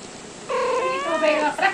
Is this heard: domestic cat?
yes